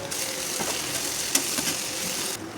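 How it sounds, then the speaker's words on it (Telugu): Green chillies and curry leaves fry in hot oil with a little salt, making a loud, steady, close sizzle that continues throughout with no voices. "2 పచ్చిమిరపకాయలు, కరివేపాకు వేసి వేయించుకోవాలి."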